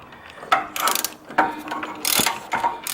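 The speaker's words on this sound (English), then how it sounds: "Now to get the old spark plug out, which sits there, you want to use a deep socket." A socket ratchet clicks in short bursts while loosening the spark plug on a John Deere lawn mower, close and fairly clear, with brief pauses between strokes and no talking.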